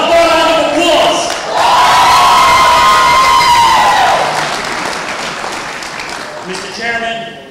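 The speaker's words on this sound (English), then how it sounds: "One more round of applause!" A Democratic convention crowd in Yonkers applauds and cheers loudly, with whoops and shouts rising over the clapping, then the ovation gradually thins out and tapers off toward the end.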